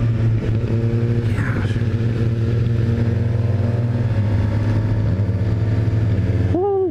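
A 2018 Suzuki GSX-R750 sport bike drops down through the gears into first, its engine droning close and loud, the pitch stepping down through shifts before rising blips at the very end.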